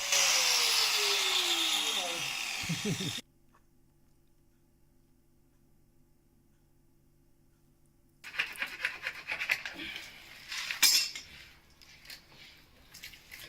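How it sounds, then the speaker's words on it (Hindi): An angle grinder cutting a borewell pipe whines loudly and then spins down in the first few seconds, followed by silence and then close scraping and clattering handling noises. "तो हम ग्राइंडर की मदद से इसको काट लेते हैं"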